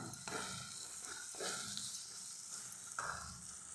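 A large chopped tomato frying in a pan over ginger paste for chekodi curry, giving a steady close sizzle with a few louder crackling bursts and no voices.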